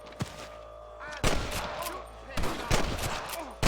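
Red Dead Redemption gunfire on Nintendo Switch in scattered bursts, several rapid shots cracking close by amid a hum of background game sound.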